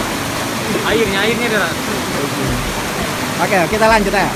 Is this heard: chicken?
no